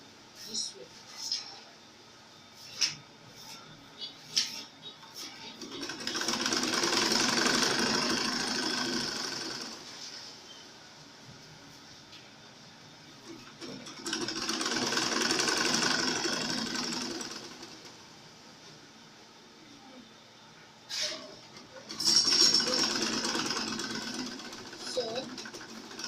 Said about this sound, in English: So I'm placing it on my sewing machine.